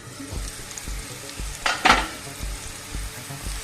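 Chopped vegetables for a Spanish omelette sizzle steadily in a frying pan while a utensil scrapes and stirs them in regular strokes, with a brief louder burst of frying partway through and no talking.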